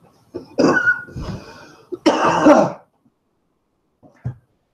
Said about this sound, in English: You cough like something's wrong.